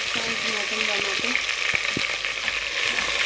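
Moraiyo is tempered with cumin in a hot pan, giving a steady close sizzle and crackle with a few sharp pops and a brief scrape of stirring.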